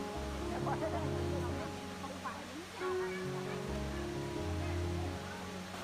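A clear mountain spring stream flows past a large pool near a footbridge on a hot summer day, a steady broadband rush of running water throughout with faint background voices mixed in.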